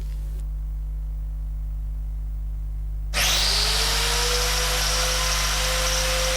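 A fine grinding wheel cuts a groove in metal to prepare for stick electrode welding. After a low hum, it starts abruptly at about three seconds and then whines loud and steady to the end.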